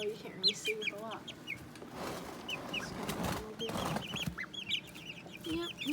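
Three-week-old Plymouth Rock chicks, kept with a duckling, peep and cluck close by in a quick, busy chorus that runs throughout.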